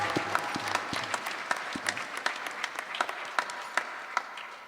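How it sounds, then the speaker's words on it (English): Scattered applause from a congregation at a night-time Maha Shiv Puran Katha religious gathering, a few sharp claps standing out over a thin, moderate patter that fades slightly toward the end. "Please let us give him and them all a very big round of applause."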